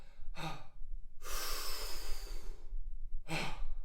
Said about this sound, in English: on the exhale, it's just going to be a dump